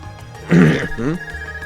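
A synthetic electronic ring from an ARCUS device in Trails of Cold Steel chirps in two short bursts, clear and close, against a quiet background hum.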